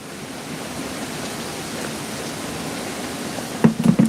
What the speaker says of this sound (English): It is really raining outside, like pouring down rain.